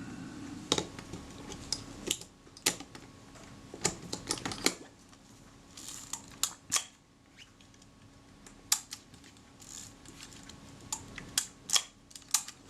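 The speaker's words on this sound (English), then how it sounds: "So I'm going to adjust that by winding in this screw so the frame counter doesn't move quite so far." Adjusting the frame counter of a Kodak Retina IIIc camera by winding in a small screw: sparse, close, sharp mechanical clicks and ticks, scattered irregularly over a quiet background.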